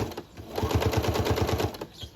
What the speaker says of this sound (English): And then I go ahead and sew until I get to that point.